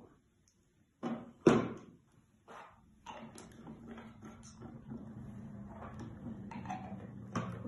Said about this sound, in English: Put the lids on.